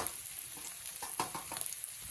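Cumin, ginger and green chillies sizzle and fry in a pan while being stirred, a soft steady crackle with brief scraping strokes of the spoon, close and fairly quiet, no voices.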